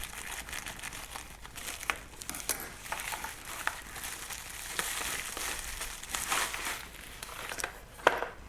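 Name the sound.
cutting open plastic packaging with scissors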